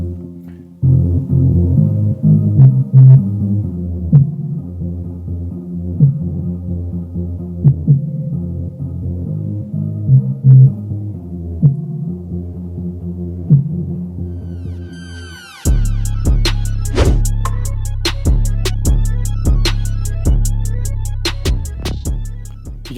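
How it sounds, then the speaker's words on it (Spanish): A front-facing subwoofer plays a pink noise test signal toward a measurement microphone, a steady deep throbbing rumble with pulsing low beats, shifting partway through to a louder, fuller broadband hiss over the bass. "Y ya estamos probando el subwoofer frontal hacia el micrófono con ruido rosa"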